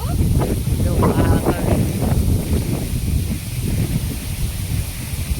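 Strong, storm-like wind on a farm roars in a steady low rumble, buffeting the microphone, while people talk over it.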